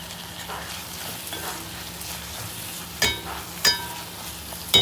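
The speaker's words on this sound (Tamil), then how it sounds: "ஸோ இதை நல்லா வதக்கிட்டேன்." Brinjal sautéing with sambar powder in a pan, giving a soft continuous sizzle with occasional stirring scrapes and a few sharp clinks of a spoon against the pan near the end.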